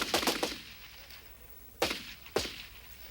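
FAMAS 5.56 assault rifle fire: a quick close burst of three or four sharp cracks, then two more single shots spaced apart, each leaving a short echoing tail.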